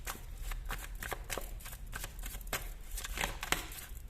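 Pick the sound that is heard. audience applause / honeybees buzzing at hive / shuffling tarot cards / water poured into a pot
shuffling tarot cards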